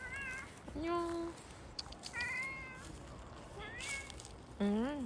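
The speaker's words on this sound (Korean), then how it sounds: "야옹했어?" Cat meowing repeatedly in several drawn-out, rising and falling calls with short gaps between them, fairly close, with a person's voice speaking in between.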